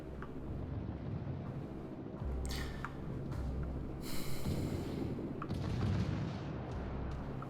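Naval gunfire in World of Warships, heavy booming salvos with rumbling low-end and splashing bursts, several loud blasts spread across the stretch with no talk.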